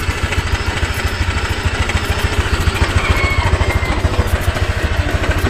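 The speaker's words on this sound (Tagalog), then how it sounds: "Sa unang andar ng click, naka-rev up talaga siya, mataas ang revolution niya." Honda Click 125i scooter (2021) engine just after starting, running at a high, fast-pulsing idle that stays loud and close, with no talking.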